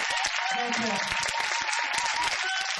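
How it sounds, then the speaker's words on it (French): An audience at a stage show applauds steadily, a dense wash of clapping from a crowd with a voice talking over it throughout. "applaudissez, montrez qu'il y a de l'ambiance"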